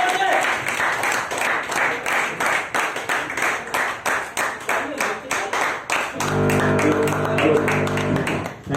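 Audience applause at a talk, rhythmic group clapping in an even beat with a voice over it, then settling into continuous applause with music underneath.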